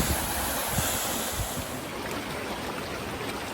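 Rushing water from a waterfall beside a steep, rocky hiking trail in New Zealand's back country, a steady broadband roar holding at a constant level throughout, with some low wind buffeting on the microphone.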